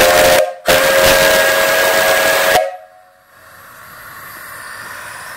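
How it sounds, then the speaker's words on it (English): An old brass steam whistle on a coal- and wood-fired live steam engine boiler blows loud and steady for about two and a half seconds after a brief first toot, then cuts off, leaving a faint hiss of escaping steam. "And a really nice whistle, but it does leak because it is old, so I put an extra valve on it."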